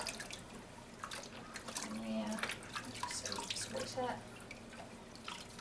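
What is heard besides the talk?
water cupped by hand over baby's head in bath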